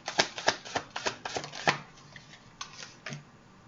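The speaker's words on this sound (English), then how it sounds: "I'm going to get 8 cards here for this reading." Tarot cards drawn and flicked for an eight-card reading, a quick run of close, crisp snaps and shuffling flicks, then a few sparser taps, with no speech.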